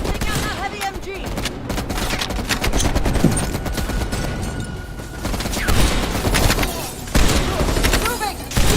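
Heavy machine gun fire in the Black Ops Cold War video game, with dense, continuous rapid bursts, loud and close, layered with other gunfire and battle noise.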